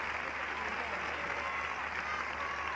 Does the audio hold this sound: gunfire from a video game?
no